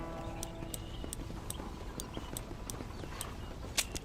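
Hooves of a horse-drawn coach in the Red Dead Redemption video game clip-clop in a steady walking rhythm over a low rolling rumble, with a brief sharper knock near the end.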